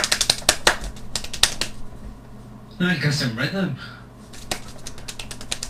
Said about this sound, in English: I'm just clapping. That's how fast I can clap.